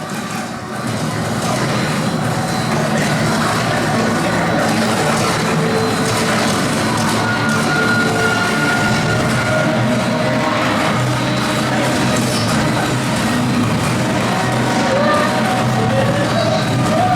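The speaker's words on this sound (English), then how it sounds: "On the Paris Metro." A Paris Metro-themed ride at an amusement park, with wind machines, produces a loud, continuous rumble and rattle of running along rails, overlaid by crowd murmur and occasional voices throughout.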